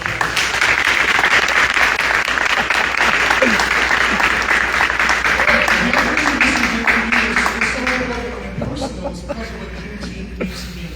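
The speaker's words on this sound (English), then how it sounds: "let's give Mayor Mahoney a round of applause" A large audience at a mayoral debate in Jackson, Michigan applauds loudly and steadily, the clapping fading toward the end as voices and murmurs emerge underneath.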